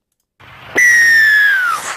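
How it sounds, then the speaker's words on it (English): A league referee's whistle blown once in a radio studio, a loud, piercing sustained tone lasting about a second that slides slightly down in pitch at the end, heard alone without talk. "Bit piercing, isn't it? That's the league whistle"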